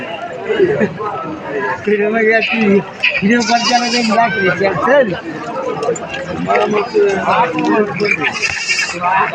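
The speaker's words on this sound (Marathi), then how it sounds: "इथे काठ्यावडी शेळ्या विक्रीसाठी आहेत" Kathiawadi goats bleating at a busy livestock market, repeated nearby bleats rising over constant crowd chatter and close talk.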